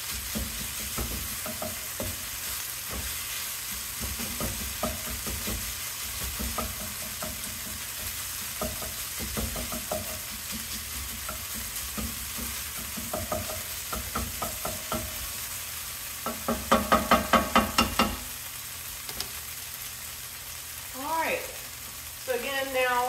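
Onions sizzling on a grill pan for tacos, a long steady crackling fry with intermittent scraping of a utensil, a brief rattling burst and a short squeak late on.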